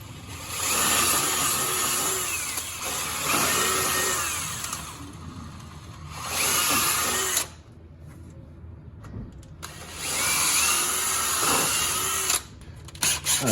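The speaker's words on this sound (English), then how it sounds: "you see how I just use a drill bit and just keep going in?" A drill bit grinds into old bushings on a 1967 Chevrolet C10 pickup, running in several sustained bursts separated by brief pauses, close and fairly loud with a rough scraping tone.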